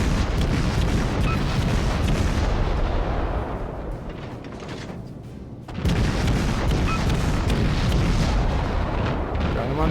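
Warship artillery booms in World of Warships, rolling dense blasts of naval gunfire that dip briefly in the middle before surging back loud and continuous.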